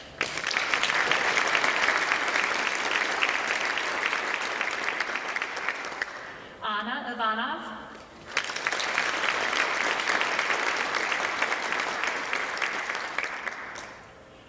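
Audience applause for students coming forward to receive scholarships at a high school orchestra spring concert, a dense sustained clapping crowd that drops briefly while a voice speaks a name, then swells again.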